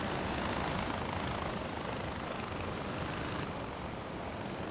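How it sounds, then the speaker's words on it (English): A helicopter flies in the video game Far Cry 4 with a steady, dense rotor and engine roar that runs unbroken throughout at moderate loudness. "if these choppers weren't held together by duct tape, though"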